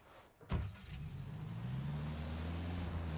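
Vehicle driving in Ghost Recon Wildlands: a sharp thump is followed by a steady, close engine hum that rises slightly in pitch as it drives on, with no talking.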